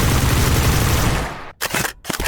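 Gunfire from the Vision gun in the VR shooter H3VR: a loud dense burst of rapid shots that abruptly cuts off, followed by two more short bursts separated by brief silences.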